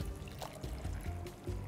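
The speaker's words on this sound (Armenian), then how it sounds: "լցնում ենք վրան ջուր" Cold water pours into a bowl of corn starch and baking powder mixture, a soft, close, steady trickle lasting under two seconds, fairly quiet and without talk.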